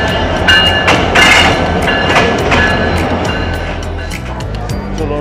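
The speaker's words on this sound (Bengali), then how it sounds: "ট্রেনটা অলরেডি চলে আসছে, চলুন ট্রেনে ওঠা যাক।" The Nilsagar Express passenger train, running between Dhaka and Saidpur, rolls loudly into a station with a rumbling roar and rhythmic clattering of carriages, close by and filling the whole stretch.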